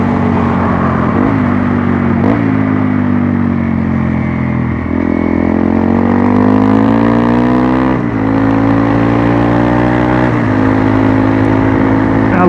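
Adventure motorcycle ridden off-road on a dirt track, its engine buzzing loud and close with repeated gear changes and rising revs, a continuous drone without talk.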